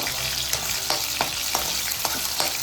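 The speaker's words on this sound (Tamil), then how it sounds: "இப்போ இந்த முட்டை ஊற்றினோடனே இப்படி கலரி கொடுத்துணும்" Egg poured into hot oil for chicken noodles, sizzling close and loud while a spoon stirs and scrapes the pan in a steady rhythm.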